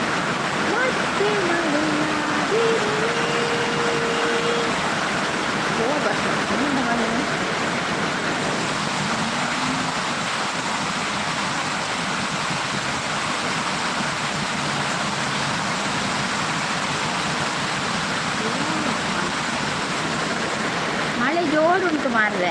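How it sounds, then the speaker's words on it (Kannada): Heavy rain roars in a constant, loud wash of noise throughout, with faint voices briefly audible beneath it. "ಮಳೆ ಜೋರುಂಟು ಮಾರ್ರೆ"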